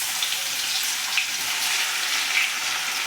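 Crushed garlic sizzling as it hits hot oil already seasoned with asafoetida, cooked for paneer toofani: a steady, close, bright frying hiss with no talking.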